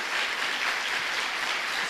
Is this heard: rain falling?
no